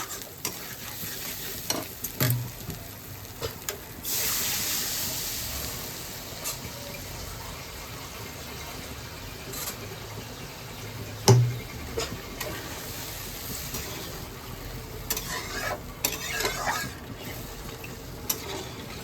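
Water poured into a pan of sizzling fish curry masala for a tangra fish jhol: steady frying hiss, a splashy pour and occasional spoon scrapes and clinks, close and continuous with no talking.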